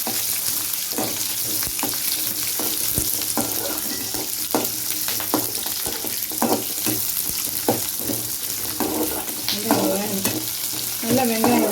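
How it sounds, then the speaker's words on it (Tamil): Onions with garlic frying in hot oil in a pan, a steady sizzle broken by repeated scraping strokes of a spoon stirring, the strokes coming at an irregular pace and growing busier toward the end. "நல்லா வெங்காயம் வேகணும்"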